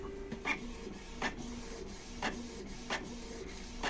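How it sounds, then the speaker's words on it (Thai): A USB printer runs quietly with a steady mechanical hum, its print head sweeping back and forth in regular, repeating strokes. "ได้ยินเสียงปรินเตอร์"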